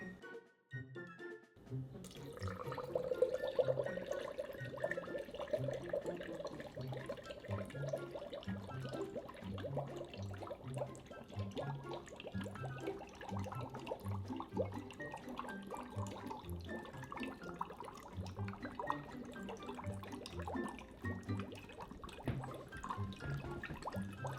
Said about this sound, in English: now we're just going to pour it into our container